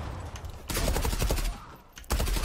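Rapid automatic gunfire in the shooter game Zula, with loud close bursts of rattling shots separated by a short pause, followed by another quick burst, and no talking.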